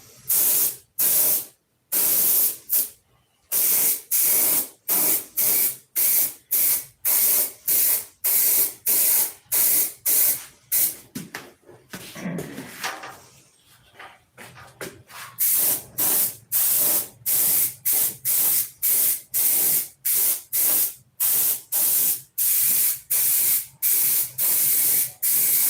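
Spray paint being applied in coats to trim: rapid, loud hissing bursts repeated in steady on-off pulses, with a brief pause mid-way filled by softer handling noises, then the bursts resume.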